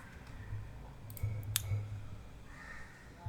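A few crisp computer mouse clicks on a Windows 11 PC, isolated and fairly close over a low steady hum, with one sharp click standing out.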